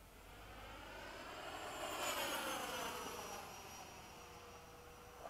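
A Freewing 90mm F-104 model jet flies past on a still, windless evening, its ducted-fan whine and rushing air swelling to a peak and then fading as it moves away.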